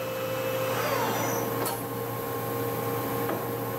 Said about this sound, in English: Spindle 500 RPM right now. Very quiet, stable.